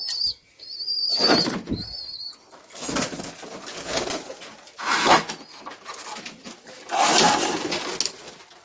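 Domestic pigeons coo and beat their wings as they are released from their coop, with several close bursts of loud flapping spread across the clip.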